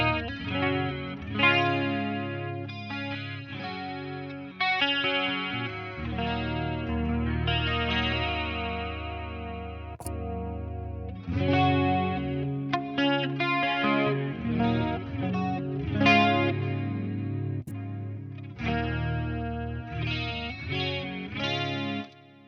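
Clean-channel guitar through a Marshall amp, drenched in delay and chorus effects, plays a continuous melodic passage of chords and single notes with shimmering, swirling repeats and no talking.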